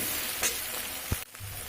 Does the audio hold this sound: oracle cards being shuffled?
no